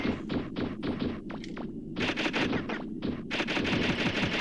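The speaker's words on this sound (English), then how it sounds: "Hit him with the machine buster." Rapid fire from the machine buster in the video game Megaman Legends: quick bursts of repeated shots in tight rhythmic volleys with brief gaps, loud and close over a steady game backdrop.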